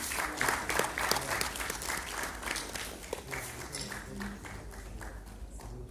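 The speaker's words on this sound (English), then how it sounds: "Can we have a round of applause for them?" An audience at a university conference session claps in a sustained round of applause, steady and fairly faint, with many hands at medium distance.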